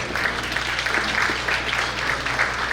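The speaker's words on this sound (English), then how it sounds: "Please give her a big round of applause." Audience applause for a speaker at a South Asian community brunch, a dense, steady wash of many hands clapping that holds at an even level throughout, with no talk over it.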